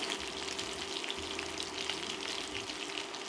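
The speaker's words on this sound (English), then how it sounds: "Now just leave it alone to sear." Tilapia fillets sear in a hot pan over high heat, giving a steady, dense sizzle with crackling spatter that holds even and close throughout, with no voices.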